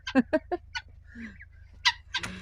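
Bantam chickens cluck and chirp in short bursts, a few quick calls followed by a pause and more scattered clucks nearby.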